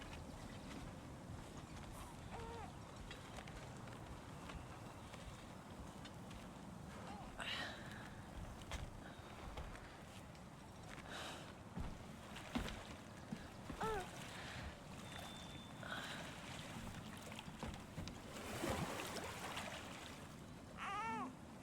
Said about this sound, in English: Do you enjoy the gentle waves